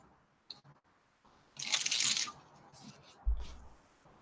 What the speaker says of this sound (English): So I'm going to be munching on some lettuce wrap here.